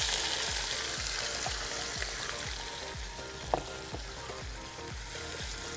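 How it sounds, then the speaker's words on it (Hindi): Onions sizzle in hot oil in a pan for chicken feet curry, producing a soft, even frying hiss with regular rhythmic stirring scrapes and one sharp clink partway through. "ये ऑयल हमने पहले से रखा हुआ है, गर्म हो गया। और ये अब प्याज डालते हैं इसमें।"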